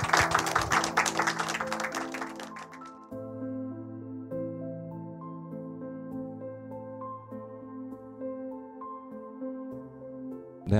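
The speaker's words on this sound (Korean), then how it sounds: "박수로 환영해 주십시오." An audience at a film screening Q&A applauds to welcome the director and actors. The dense clapping lasts about three seconds, then gives way to steady, sustained music that carries on alone.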